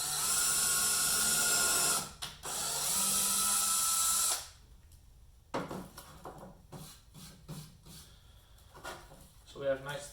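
A power drill whirs loudly for a few seconds, bores holes in a wood project, pauses briefly, then spins again before stopping. Lighter clunks and handling noises follow as a voice talks.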